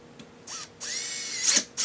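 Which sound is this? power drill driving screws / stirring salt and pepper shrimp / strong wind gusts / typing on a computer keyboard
power drill driving screws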